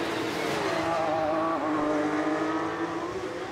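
Porsche Carrera Cup race cars lapping the Imola circuit, a loud continuous engine roar with shifting pitch as the cars pass close by, steady and unbroken throughout.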